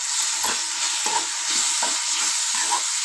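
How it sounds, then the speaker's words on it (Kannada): Soybean fry masala sizzling in a pan with repeated scraping stirs of a spatula, a steady frying hiss underneath and periodic stirring strokes roughly every half second, close and alone. "ಇವಾಗ ಮಸಾಲೆ ಹಾಕಿದ್ಮೇಲೆ ಸ್ವಲ್ಪ ಮಸಾಲೆ ಹಸಿ ವಾಸನೆವರೆಗೂ ಫ್ರೈ ಮಾಡ್ಕೋಬೇಕಲ್ವ"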